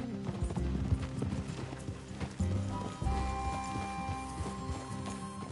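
Horse hooves clip-clop steadily in Red Dead Redemption 2, a continuous close-up rhythm of hoofbeats with a brief whinny, no voices over it.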